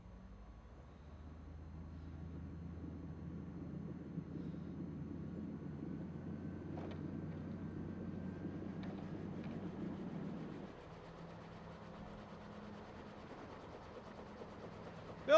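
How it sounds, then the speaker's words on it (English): A small airplane in Microsoft Flight Simulator 2024 takes off from a road, its engine a steady low drone throughout. The tone shifts and deepens partway through as the aircraft gains power. "Let's take off on the road."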